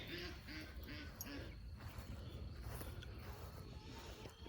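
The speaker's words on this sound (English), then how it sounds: "I hear the ducks" Ducks quack in a quick series of calls near the start, then keep going among other noisy outdoor sounds, with a busy background throughout.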